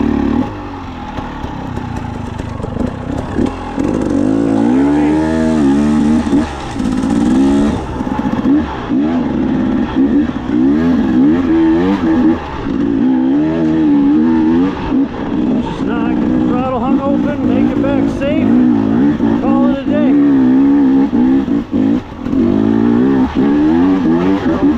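A dirt bike with Michelin Starcross 6 tires riding woodland trails, its engine revving up and down in rising and falling surges, loud and close throughout, with someone talking over it.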